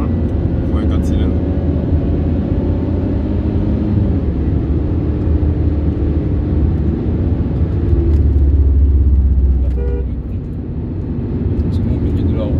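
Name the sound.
Mercedes C300 4matic four-cylinder engine running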